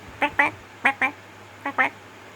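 A voice imitates a common duck, giving three evenly spaced pairs of short, nasal quacks over a quiet background hum.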